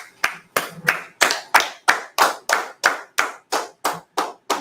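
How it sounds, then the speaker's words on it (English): Steady unison clapping from a group in a scripture class, about a dozen sharp, evenly spaced claps in a slow regular rhythm, loud and close with no talk over them. "Well, let's go ahead and clap it up."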